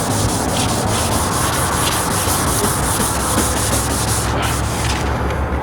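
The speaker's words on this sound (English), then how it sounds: "sand it down." Steady, loud abrasive rubbing as a faded plastic headlight lens is sanded in circles, a continuous dense scraping texture with no pauses and no talking.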